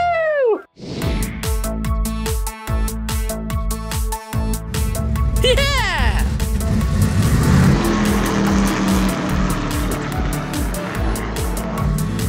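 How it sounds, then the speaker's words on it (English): A race car accelerates along a track with a loud engine roar and rising, shifting pitch, close and continuous, while someone shouts excitedly over it. "Now it's time to get this race car on the track!"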